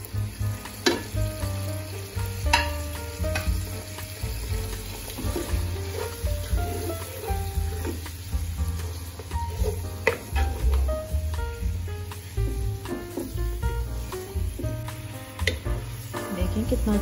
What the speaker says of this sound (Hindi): अब दूसरी तरफ ये मैंने मसाले डाल दिए थे और इसको हल्का सा भून रही हूँ।